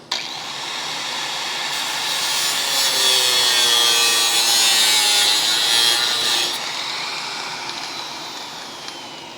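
Car body sheet metal on a crew cab Charger under restoration being sectioned with a power cutting tool, giving a steady, loud, close grinding whine that holds for several seconds before tapering off, with no talking.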